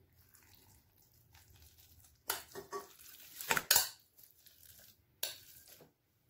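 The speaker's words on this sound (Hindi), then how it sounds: "अब मैंने सारी चीजें एक बाउल में डाल के मिक्स करनी है।" Minced meat with onion, green chilli, ginger, red chilli and black pepper being mixed by hand in a bowl at home, heard as a few close, irregular bursts of squelching and clinking against the bowl over a quiet room, with no talking.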